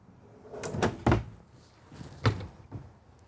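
Kitchen drawers in a 2020 Newmar King Aire 4531 motorhome sliding open and shut, several quick rumbling slides ending in soft thuds, close by with no talk.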